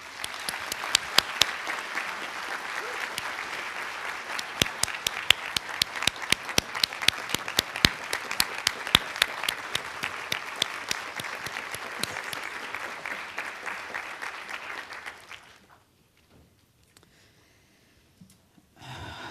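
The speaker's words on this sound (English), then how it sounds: "can we just give Jean another round of applause?" A room full of people at a nursing pinning ceremony give a long, loud round of applause with crisp individual claps, sustained for about fifteen seconds before fading out abruptly into quiet.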